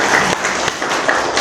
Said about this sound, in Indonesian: Beri aplaus untuk perwakilan